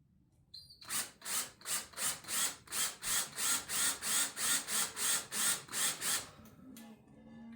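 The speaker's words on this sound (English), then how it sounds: "I got my cordless drill I'm going to use with a bit driver and see how these self-starting screws work" A cordless drill with a bit driver sinks self-starting screws into a chain link fence gate rail, about a dozen loud, evenly spaced whirring pulses in a steady rhythm, close up, with no talk.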